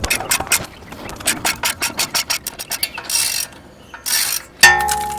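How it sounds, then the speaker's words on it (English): A ball joint separator tool on a Subaru steering knuckle is tightened to pull out a rusted ball joint: a run of repeated ratcheting clicks and scraping strokes, close and fairly loud, ending in a sharp metallic clank. "this tool will thread onto that ball joint, and as you tighten it, it's going to pull the ball joint out of the knuckle"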